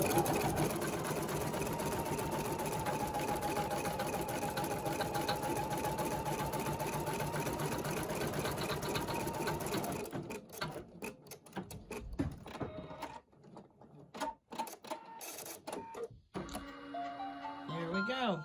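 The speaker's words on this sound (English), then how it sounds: "after it does the last scallop, it'll come over here and put a needle into the marker and stitch a couple of stitches" An embroidery sewing machine stitches the final scallop of an endless hoop design, running loud and steady for about ten seconds before stopping, followed by scattered short stitching bursts and quiet handling noises.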